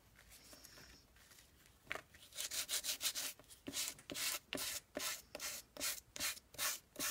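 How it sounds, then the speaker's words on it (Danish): A file rasps along a paper edge for a junk journal, starting quietly and then settling into a steady run of close, sharp scraping strokes in a regular back-and-forth rhythm. "jeg har lært, at man skal tage en fil her"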